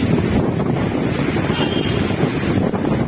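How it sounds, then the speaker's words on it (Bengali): Strong storm wind in Chittagong, blowing hard and steady against the microphone as a dense, continuous roar with no breaks or voices. "প্রচুর ঝড় এবং বাতাস"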